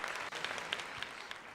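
Short stretch of canned applause triggered from a stream deck on a live Sixers vs. Wizards basketball play-by-play stream, steady crowd clapping at moderate level with no talking.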